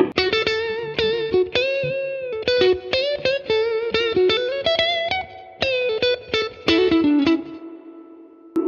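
An electric guitar plays clean through a Fender Tonemaster Twin Reverb amp with the overdrive off. Bright, punchy plucked notes and chords move in a steady, lively rhythm, loud and close with a reverb tail, and no one talks.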